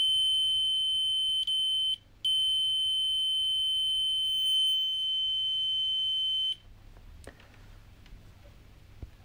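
A multimeter continuity test on an antenna head gives a steady high-pitched electronic beep for several seconds, with a brief break, then cuts off abruptly into quiet room noise.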